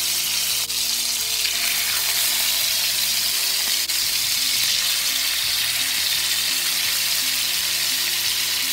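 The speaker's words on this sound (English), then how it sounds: "you hear that sizzle?" Loud, steady sizzling of chicken frying in a hot pan, crackling continuously throughout with faint clinks and stirring underneath.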